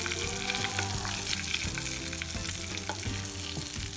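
Hot oil poured onto ripe plantain for a Ghanaian mash with salted fish, giving a loud, dense, continuous crackling sizzle throughout with no talk.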